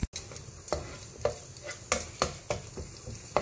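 Mashed pumpkin gets stirred with spices in a hot pan as kaddu ka bharta, with a rhythmic series of close spoon scrapes and taps over a low sizzle and no talking.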